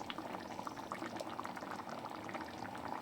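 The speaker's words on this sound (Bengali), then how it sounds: "পায়েসের দুধ ফুটে ফুটে একদম ঘন হয়ে এসেছে।" Milk and rice payesh at a thick, reduced boil bubbles and pops in a pot, a soft, steady stream of small plops and gurgles with no talk.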